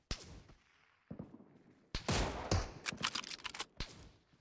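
Gunfire in a video game: a sharp shot, then a pause, then a dense volley of rapid cracks and bursts at close range with a rumbling tail.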